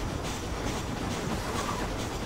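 Steady rumble and clatter of a moving train in Red Dead Redemption, continuous and loud throughout with a faint rhythmic clack of wheels on rails.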